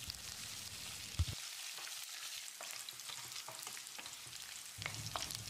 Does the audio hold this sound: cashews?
yes